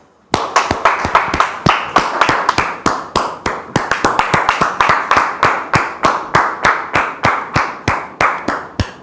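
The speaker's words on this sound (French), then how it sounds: "vos applaudissements" A lone person claps steadily to welcome a guest onto a show, sharp, evenly spaced hand claps ringing close and loud for several seconds after a short silence.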